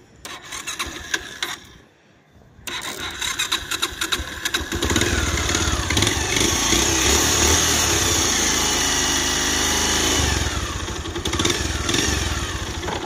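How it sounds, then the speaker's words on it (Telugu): A Bajaj Pulsar motorcycle engine under full restoration runs up close during a condition check, giving a steady rattling, buzzing drone that drops out briefly early on, then holds evenly. "ఇంజిన్ బీటింగ్ ఎలా ఉంది ఇప్పుడు ప్రజెంట్ కండిషన్ కానీ ఒకసారి చెక్ చేసేయండి"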